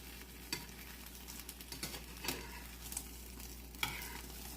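An omelette frying in a pan gives a steady low sizzle with soft stirring or scraping taps scattered through it, quiet and close.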